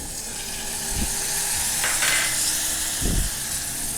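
Bottle gourd tossed into hot oil with chili powder, turmeric and coriander-cumin, a steady hiss with a brief louder sizzle burst and a few soft low thumps of pieces landing.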